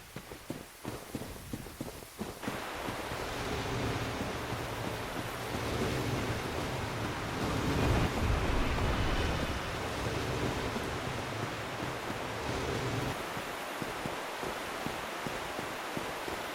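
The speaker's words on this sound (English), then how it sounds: "Are you sure it's just not the waterfall?" A waterfall in the Dark Souls game roars as a steady, dense rush of falling water, rising in and holding at a constant level before easing off near the end, with a few faint clattering taps at the edges.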